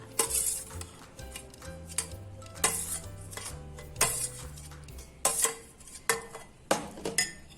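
Cooked pasta going into a bowl for pasta salad with fresh cucumbers, heard as a series of soft clinks and clatters against the dish, with a low musical bed running underneath.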